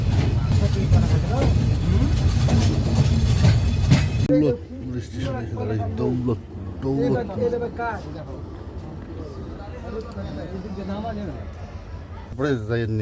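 Aboard the Simanta Express leaving Khulna railway station for Natore, a heavy, loud carriage rumble fills the first four seconds, then people talk over a quieter, continuous running drone.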